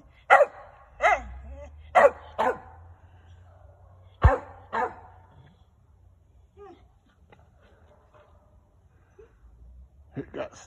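A dog barks up at something hidden in the tree leaves, a run of loud, close, sharp barks in quick succession before a quiet stretch, with one more bark at the end and someone speaking between them.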